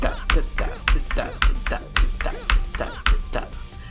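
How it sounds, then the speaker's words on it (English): Arcade stick buttons pressed in King of Fighters XIII in repeated sharp taps at a steady rhythm, about seven in a few seconds, each tap sitting with a short shouted game voice over a busy game background. "This is the input delay on an arcade stick."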